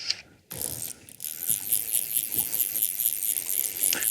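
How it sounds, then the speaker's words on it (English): A fishing reel winds in line while landing a brown trout on a stillwater in Russell, Manitoba, giving a close, steady fast clicking whir after a brief quiet start with faint ticking. "make sure I distribute that line evenly on the reel"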